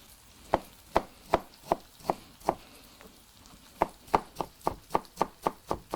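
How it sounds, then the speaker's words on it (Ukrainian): A knife cutting the tops off tomatoes on a board, heard as a series of crisp, evenly spaced chopping knocks, close and clear, with a short pause midway and no talking. "Вирізаємо попки у помідорів."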